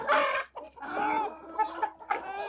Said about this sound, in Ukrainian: курей породи Михаленська зозуля. Їх би їх би треба було б десь відділити